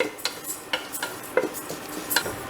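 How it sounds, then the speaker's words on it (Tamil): Green gram and sago dry-roasting in a pan, a rhythmic series of spoon scrapes and stirring strokes over a faint rustling hiss. "சிறுபயிர் பாதி வறுபட்டு நான் அது கூட ஜவ்வரிசியும் போட்டு வறுக்கிறேன்"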